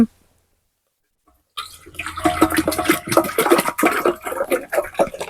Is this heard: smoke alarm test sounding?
no